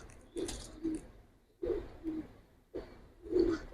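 Domestic pigeons of the giribaz and jelly pankhi breeds coo nearby in a repeated rhythm, four low throaty phrases of two parts each with short pauses between them.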